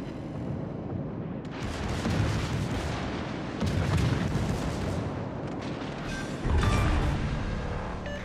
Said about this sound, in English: Concentrate fire on the enemy warship.